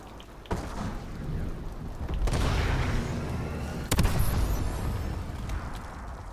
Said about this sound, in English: there we go, another missile strike